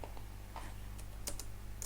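Computer keyboard keys tapped while coding a React carousel, a quick uneven run of soft clicks close by over a steady low hum, with no talking.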